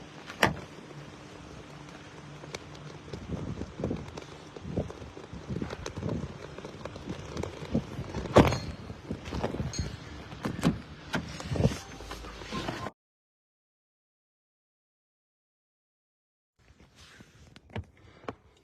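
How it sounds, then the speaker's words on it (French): A person climbs into a car: a stretch of rustling, thumps and movement with brief clicks, a sharper knock midway, then sudden silence before faint shuffling resumes. "je vais entrer dans ma voiture"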